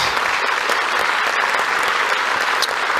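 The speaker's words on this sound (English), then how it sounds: "let's give these young people a round of applause" A crowd claps enthusiastically, sustained dense applause from many hands, loud and continuous throughout.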